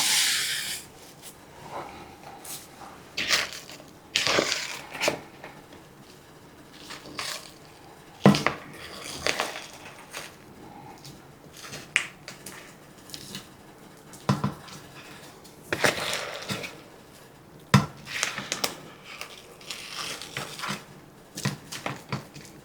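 Thick apple cake batter scraped and dropped into a baking dish, with repeated knocks and scrapes of a utensil against the dish in an uneven rhythm, close and fairly loud, no talking.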